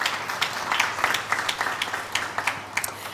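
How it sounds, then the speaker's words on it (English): Event audience at a business women's awards gathering clapping in a sustained, dense round of applause, steady and fairly loud with individual claps crackling through. "You can give them all a round of applause."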